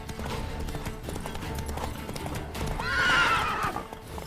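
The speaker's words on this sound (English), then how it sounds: "Spooking my horse." A startled horse in The Witcher 3 whinnies loudly over a steady clip-clop of hooves, the neigh rising near the end above a busy game soundscape.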